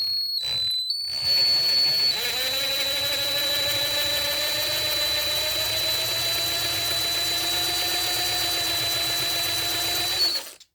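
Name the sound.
power drill drilling out a rivet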